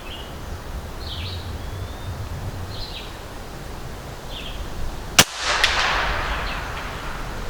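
A single sharp shot from a NETVOR 458 cracks out once at mid-clip, followed by a brief rushing tail, with faint birdsong and outdoor ambience before it.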